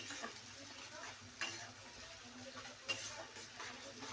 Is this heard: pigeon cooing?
no